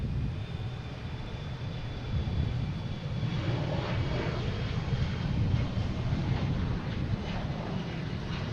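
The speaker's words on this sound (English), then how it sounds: "next taking off, we have Delta heading to LaGuardia, E-175" A Delta Embraer E-175 jet takes off at Boston Logan, a steady broadband engine roar with a deep low rumble held at constant loudness and moderately distant throughout, no voices.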